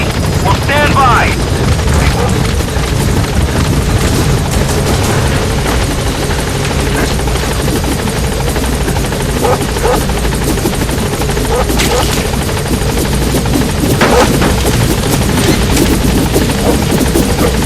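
In the Metal Gear Solid V game, the Pequod helicopter arrives at the landing zone and hovers with a loud, constant rotor roar, with scattered bursts of distant gunfire-like cracks and radio voices mixed in.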